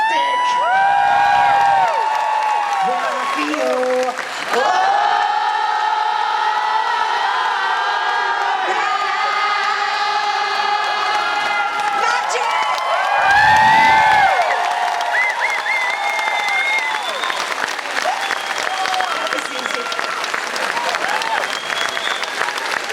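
A live TV show audience at BBC Scotland Quayside in Glasgow cheers, whoops and applauds loudly and continuously, a dense crowd roar with a brief dip partway through.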